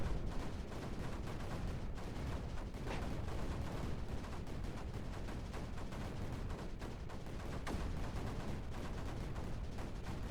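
A cannon fires in the strategy video game Creeper World 4, heard as a steady, fairly quiet stream of crackling, popping bursts that runs without a break and with no voices.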